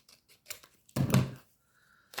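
Scissors snip through fabric such as jute or lace in a few short, close cuts, with one longer cut in the middle and brief pauses in between.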